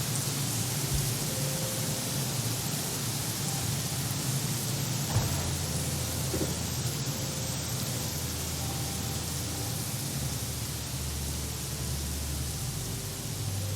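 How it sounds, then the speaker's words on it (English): Rain falls steadily in the video game Craftopia, a dense, even hiss of downpour that holds unchanged throughout with no talk over it. "Not a lot of critters out in the rain"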